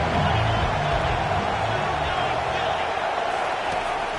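A football stadium crowd roars steadily on third and long, a dense, continuous wall of cheering and noise with no breaks.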